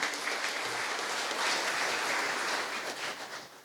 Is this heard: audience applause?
yes